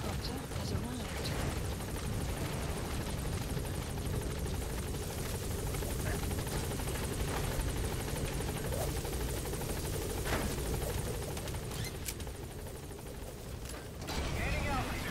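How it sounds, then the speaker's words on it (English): In Metal Gear Solid, a support helicopter arrives with a loud, sustained rotor roar that fills the scene for about fifteen seconds, mixed with mechanical clatter and occasional sharp transients. "Support helicopter has arrived."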